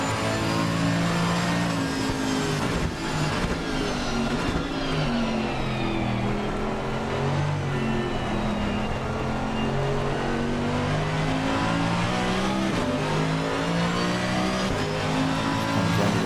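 GT3 race car in Assetto Corsa Competizione at the Blancpain GT3 Series Zandvoort round, engine droning loudly and continuously on a hot lap, pitch rising and falling through gear shifts and corners, with faint tyre noise and no talk.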